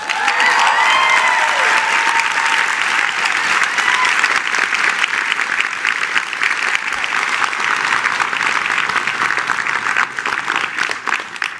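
Audience applause at a virtual reality developer conference, a large crowd clapping loudly and steadily for about twelve seconds with a few scattered cheers mixed in.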